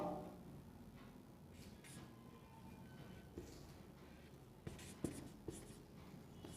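Faint, intermittent scratching of pen on paper is heard as notes are written during an economics lesson. A few light taps and soft scrapes come close together, quiet and near, with no talking.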